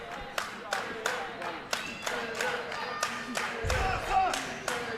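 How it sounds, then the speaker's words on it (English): Wrestling fans at a live amateur match cheer and clap steadily in a crowd, with repeated sharp thuds and shouts rising through the noise and a commentator talking over it. "Fans are cheering for his opponent, waiting for GChem to get up."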